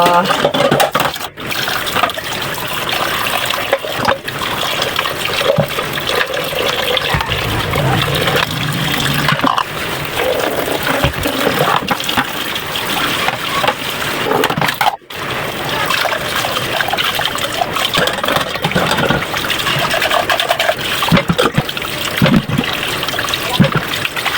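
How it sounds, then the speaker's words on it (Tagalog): Plates are washed under a running tap, with water streaming and splashing continuously at close range over clinks of dishes, with brief interruptions where the flow is blocked. "hugas lang tayo ng plato"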